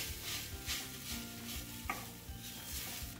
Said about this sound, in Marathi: आपण मीडियम फ्लेमवरती 2-3 मिनिटं हे खोबरं छान परतून घेऊयात.